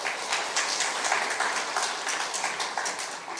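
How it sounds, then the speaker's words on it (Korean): Audience applause at a Korean university student faith retreat, a dense steady patter of many hands clapping at moderate level throughout, with no voices over it. "먼저 박수 한번 하겠습니다"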